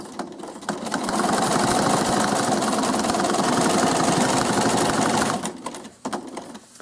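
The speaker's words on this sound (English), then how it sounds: "So I'm going to stitch to the corner." A sewing machine stitches a faux-piped French fold binding toward a corner, running in one steady, loud, continuous whir for about four seconds before stopping, with no talk.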